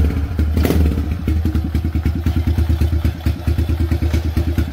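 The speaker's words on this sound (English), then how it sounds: "So I'm gonna start this, and hold on, I gotta kick it" A Kawasaki KLX110 dirt bike engine runs close by after being kick-started, a rapid loud single-cylinder putter with an uneven rhythm and a short rev near the start.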